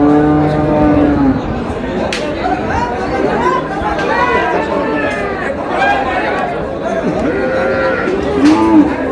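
At a cattle market in Ambari haat, Dinajpur, a cow and her calf are up for sale, with moos and bleat-like calls rising now and then amid constant crowd chatter and nearby talking.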